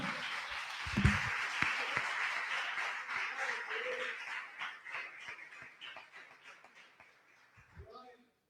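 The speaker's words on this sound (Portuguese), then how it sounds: "Vamos dar um aplauso ao Senhor" Clapping from a church congregation swells and then gradually fades away, with scattered voices calling out over it.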